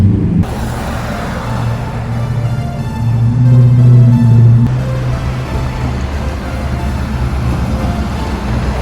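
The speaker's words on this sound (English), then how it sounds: "Our bus approaches." A city bus on a Saturday-only route in Launceston approaches with a steady low engine rumble and drone that swells briefly in the middle, heard close and fairly loud without speech.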